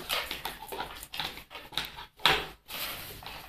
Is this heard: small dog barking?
yes